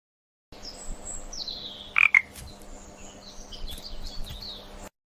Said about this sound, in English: She's surprised to see it's a frog.